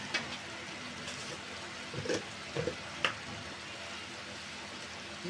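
Three medium potatoes going into a cooked-down spice paste in a pan, a steady low sizzle with a few soft knocks and stirring scrapes, close by and without talk.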